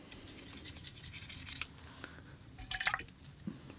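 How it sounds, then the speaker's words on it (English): A watercolor brush swished and tapped in a water jar, with soft scratchy dripping and splashy rinsing sounds, close and quiet, no talking. "Rinse off the brush."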